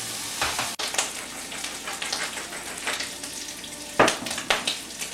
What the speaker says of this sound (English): So we're going to sear some fish once I season it up.